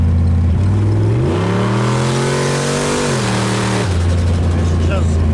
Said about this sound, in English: It's just eating the tire.